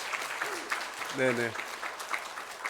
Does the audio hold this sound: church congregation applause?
yes